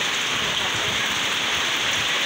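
Heavy rain pours steadily in Baguio, a dense continuous hiss with no pauses, close and fairly loud throughout.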